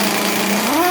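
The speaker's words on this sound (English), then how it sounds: "as always, I'll be using the impact wrench" An impact wrench spins off the flywheel center bolt on a Mercury Black Max outboard motor, a short, steady, high-pitched mechanical whine that rises in pitch near the end.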